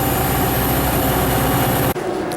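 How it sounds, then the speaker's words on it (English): A loud, steady low rumble of a train heading to San Francisco runs throughout, with a brief dropout near the end before the engine drone resumes. "hope this is the train to San Fran."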